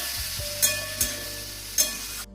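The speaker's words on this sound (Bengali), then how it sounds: "মশলা দিয়ে একটু কষিয়ে নেবো" Steady sizzling of vegetables frying with spices in a pan, with a few clinks of a spoon stirring, close by.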